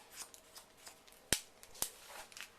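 Scissors trim a freshly washed hair fringe, with two crisp close snips standing out against a quiet background and fainter snipping and rustling between them.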